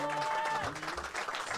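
A studio audience at a live radio session claps together during a countdown, a dense burst of clapping blended with voices and music tones.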